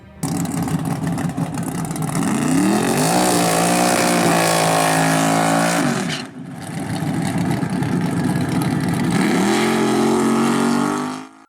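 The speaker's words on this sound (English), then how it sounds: "he's pushing the gas down, and he's got his foot on the brake, what we call power braking" A super stock drag race car's engine revs hard while power braking, gas held down against the brake. Its loud, close roar climbs in pitch, dips briefly, then surges again.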